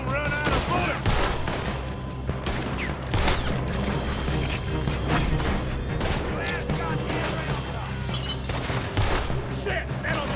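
Gunfire rattles through a shootout in the video game Red Dead Redemption 2, rapid overlapping shots and cracks in dense, sustained volleys, loud throughout with voices and game noise mixed in.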